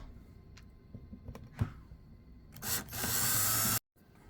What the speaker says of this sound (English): So the first thing we gotta do is drill a hole.